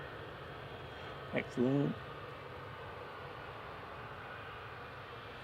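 An Airbus A220-300 airliner gives a steady, fairly distant jet roar at an airport, and a person briefly speaks a single word early on.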